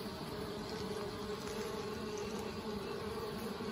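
Honeybees working in and out of an Anel hive on a hot day make a faint, steady buzzing hum that stays even throughout, with no voices.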